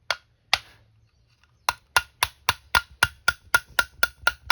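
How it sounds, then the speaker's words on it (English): A hammer drives pins back into a Briggs & Stratton flywheel, with two separate taps and then a steady run of about a dozen sharp metallic strikes, close and ringing. "Make sure you hammer them in, because you can always punch them back out"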